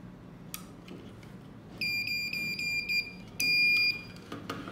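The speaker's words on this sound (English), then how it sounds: "After hearing several sounds of the beeps, the password saved successfully." Repeated electronic beeps from a Switch Prop EM lock controller confirming a saved password, a few short tones then a longer steady beep over quiet room noise.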